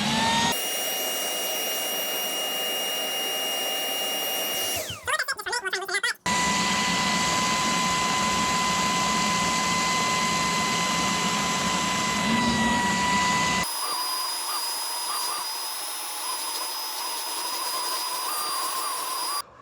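A Ryobi 18V HP spot cleaner soaks old stains in carpet with a loud, steady motor whine and airy suction hiss, broken by a short choppy burst and later shifting to a higher-pitched tone.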